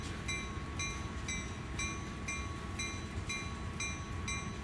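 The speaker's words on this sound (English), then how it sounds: "why is there a random train just running around?" A freight train runs steadily on rails in the Train Sim World game on the CSX Heavy Haul Cumberland route, giving a continuous rumbling roll with regular clicking beats about every half second.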